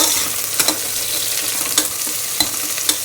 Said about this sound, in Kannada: ಸ್ವಲ್ಪ ಎಣ್ಣೆಯಲ್ಲಿ ಇದು ಚೆನ್ನಾಗಿ ಫ್ರೈ ಆಗಲಿ ಅಂತ.